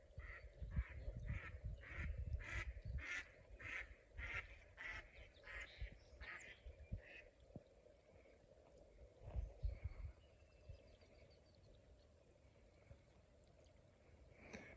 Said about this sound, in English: Mallards, 2 pair.